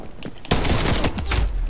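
A shotgun blast from the video game Call of Duty Black Ops Cold War hits suddenly and loudly after a quieter lead-in, followed by a dense run of rapid gunfire thuds.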